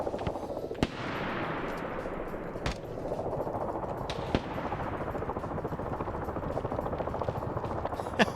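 A helicopter in a military video game descends to land near a landing zone, its steady thick rotor drone filling the scene, with sharp distant gunshots cracking through now and then.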